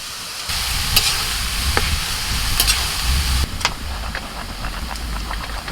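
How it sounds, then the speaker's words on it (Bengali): Cauliflower is added to a cooked-down spice masala during outdoor picnic cooking: a steady close sizzle throughout, broken by a few sharp clinks from stirring. "মশলাটা কষানো হয়ে গেছে এখন কপি দিয়ে দিচ্ছি"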